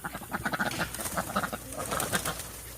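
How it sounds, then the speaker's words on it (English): Farm ducks quack over one another in a busy, irregular chorus from their pen close by, with no talking. "those are the ducks making that noise over in their space over there"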